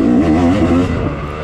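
Dirt bike engine of a racer chasing close behind during a scramble race lap, a loud, steady, buzzing drone with wavering pitch that rises and falls continuously throughout.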